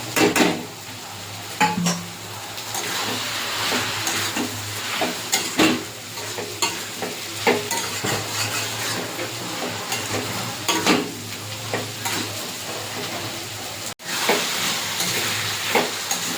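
Banana flower and fried potato stir-fried with spices in a pan, a steady close sizzle with repeated scraping and clinking of a spatula against the metal throughout.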